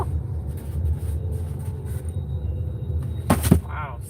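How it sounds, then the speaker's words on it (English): A car's brakes let out a sharp, high squeal lasting under a second, cutting above a steady background of traffic and engine rumble. "somebody's got squeaky brakes"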